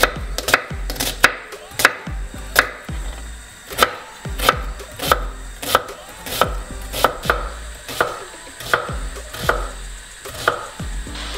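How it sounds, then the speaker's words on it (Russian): Rapid, steady knife chops dicing an onion on a cutting board, sharp regular strikes close up with no talking. "Лук нарезаем кубиком."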